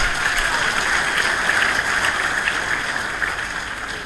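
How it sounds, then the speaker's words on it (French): An audience at the University of Kinshasa applauds the rector, a dense and sustained patter of many hands that holds steady throughout and eases slightly at the end. "Je pense qu'il faut vraiment l'applaudir très fort."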